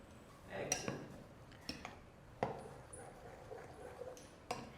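A spoon scrapes and clinks against a steel mixer jar and bowl while green moong batter is scooped out, with a few sharp metallic taps scattered between quieter scraping.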